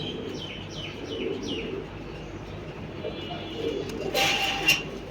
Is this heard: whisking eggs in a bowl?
no